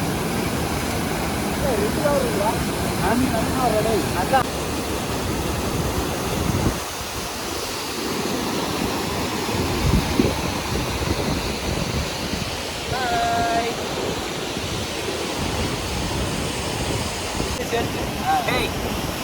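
Rushing water and windblown spray near a waterfall at an outdoor cooking spot: a constant loud roar of falling water mixed with gusty wind buffeting the microphone, with people talking faintly underneath.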